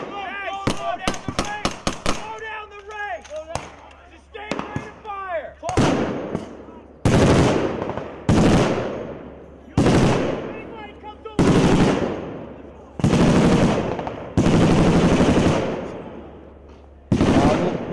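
Machine gun fire during an Australian army battle group combat exercise, with loud repeated bursts echoing outdoors, starting with rapid fire under shouted commands, then spaced heavy bursts.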